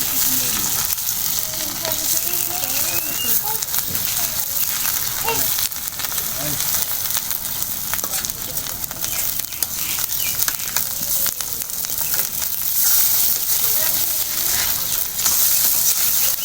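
Pumpkin slices fry in a pan with a steady, dense sizzle that runs the whole time, broken now and then by faint stirring clinks.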